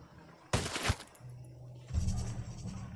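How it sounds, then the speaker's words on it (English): A sharp close burst of gunfire erupts in Ghost Recon Wildlands, a short rattling volley followed by a low hum and then a second rumbling stretch of firing. "Opening fire."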